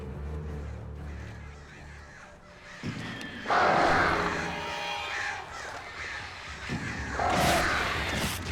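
Crows caw harshly in the Alan Wake video game, with several loud overlapping calls rising in bursts over a dense background.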